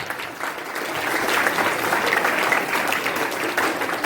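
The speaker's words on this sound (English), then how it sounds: "give him a big hand, big applause" An audience at a Teachers Day celebration claps steadily and warmly, a dense, even wash of applause that holds for several seconds with no speech over it.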